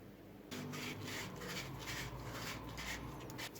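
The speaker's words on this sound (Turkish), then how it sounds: "Şimdi zımparalama işlemine geçelim." Rhythmic rasping strokes of sandpaper rubbing on the handle of a handmade leather skiving knife, close and quiet, repeating in quick back-and-forth passes.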